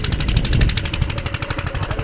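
An irrigation pump engine runs in a chilli field, chugging loudly and close in a rapid, regular mechanical rhythm that holds steady with no talk.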